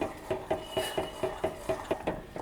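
A spoon scrapes and clinks against a pan as semolina is stirred for a modak filling, with quiet, evenly spaced strokes at a brisk, regular rhythm.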